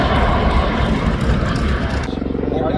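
A tiltrotor aircraft accelerating at the Central Coast Airfest in Santa Maria, California, gives a loud, steady roar of engines and rotors close by, heard under an announcer's voice.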